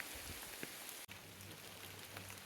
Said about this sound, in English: Doesn't look like this rain's gonna let up anytime soon